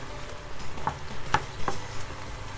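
A spoon stirs a simmering lamb dish, giving a few soft scrapes and clinks over a low bubbling simmer, quiet and close.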